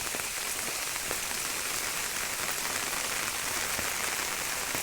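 Heavy rain pours down steadily, a dense constant hiss of drops drumming on surfaces with no pauses or voices.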